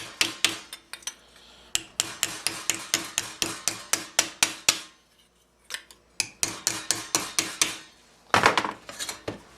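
Steel plates of a Milanese mitten gauntlet, a circa-1450 armour piece, struck by a hammer in quick, steady runs of sharp metallic blows, close and loud, with short pauses between bursts and a scraping rub near the end.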